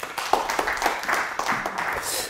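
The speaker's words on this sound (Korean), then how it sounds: "맞으신 분 박수 주세요." An audience at a lecture clapping steadily together for a couple of seconds, a dense, fairly even patter of applause from a crowd of listeners.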